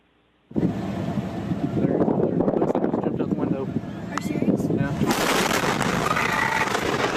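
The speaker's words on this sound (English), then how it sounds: "They were watching the fire in the distance, and then they saw the massive explosion and fireball." A sudden loud distant explosion with a fireball, following a fire in West, Texas, booms out of near silence and becomes a sustained rumbling roar, with a second surge later and voices talking over it.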